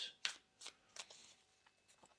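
A deck of tarot cards is shuffled by hand during a card reading, giving crisp riffling bursts in an irregular rhythm, close and fairly quiet, with no talking.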